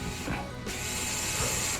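A ratchet drives screws into a tower assembly, giving a close, continuous run of quick ratcheting clicks with a short shift in tone partway through and no talking.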